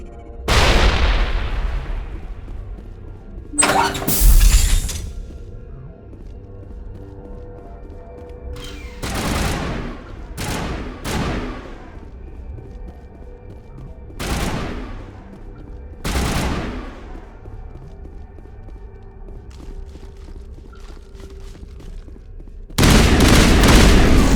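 Grenade blasts and gunfire in the video game Mass Effect 1, with several loud booming explosions spread across the stretch, separated by sharp bursts of shots over a low rumbling background, and a final heavy blast at the end.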